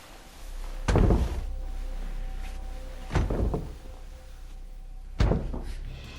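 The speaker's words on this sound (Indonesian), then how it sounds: "Andrea terbangun oleh suara Cindy membentur kepalanya ke pintu lemari" A head bangs against a wooden wardrobe door in a Conjuring horror film, giving three heavy thuds spaced about two seconds apart over a low, steady hum.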